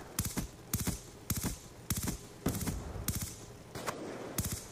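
Video game weapon gunfire in short repeated bursts, about seven volleys with brief gaps between, fairly close and moderately loud, no talking over it.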